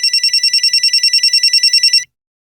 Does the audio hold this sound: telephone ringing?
yes